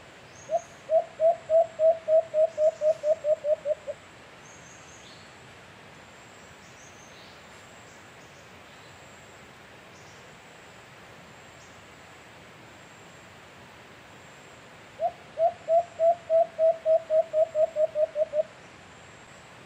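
An alimokon dove calls in the wild, two bursts of rapid, evenly spaced cooing notes that speed up and trail off, separated by a long stretch of quiet ambient hiss.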